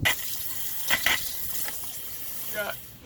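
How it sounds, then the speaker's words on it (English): Water runs steadily into an RV hydronic boiler, an Aquahot or Hydrohot unit, as a continuous hiss with a few brief louder splashing surges, close by. "I'm just going to add water so I'm not wasting boiler antifreeze if this whole thing doesn't work"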